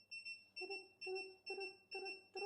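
An OBD2 gauge speed alarm in a car beeps in a steady repeating rhythm, about five short, bright electronic tones over a couple of seconds, with no talking.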